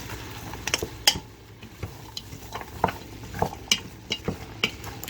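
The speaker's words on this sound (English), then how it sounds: "8 ounces of mushrooms diced. And we're just going to let these saute." Diced mushrooms sauteing in a pan for a vegan chili, with soft sizzling under scattered clicks and taps of a utensil stirring and scraping, close and quiet, with no voices.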